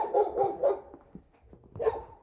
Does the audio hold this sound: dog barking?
yes